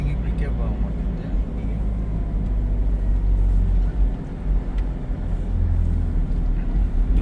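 A Tata Indica car drives along, heard from inside as a steady low engine and road rumble beneath people talking.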